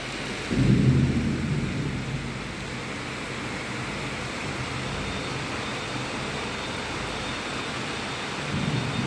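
Heavy rain falls steadily during a sudden early-summer storm as the sky goes dark. A deep roll of thunder swells near the start, and another low rumble rises at the end, with no voices.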